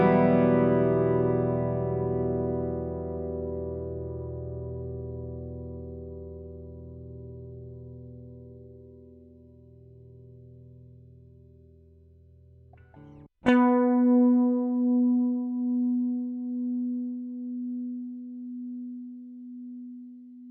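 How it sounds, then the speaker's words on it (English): A Gibson Les Paul Custom and an Inspired by Gibson Custom Les Paul electric guitar ring out a chord that decays slowly over about thirteen seconds, then a single sharply picked note sustains with gentle wavering, alone and clean. "played a chord and a single note on the Gibson and the Inspired by Gibson Custom"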